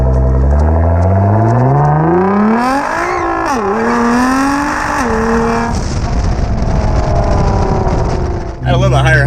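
All-wheel-drive Nissan GT-R R35 revving hard in a failed burnout attempt, loud close engine climbing through rising revs, dipping and flaring, then holding a high drone before dropping off.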